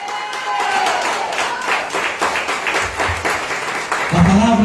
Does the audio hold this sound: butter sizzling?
no